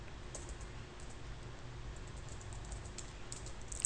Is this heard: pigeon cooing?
no